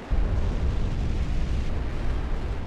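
Artillery shells from a North Korean barrage exploding on a South Korean island, heard as a dense, continuous rumbling roar of overlapping blasts with no gaps, loud and steady throughout.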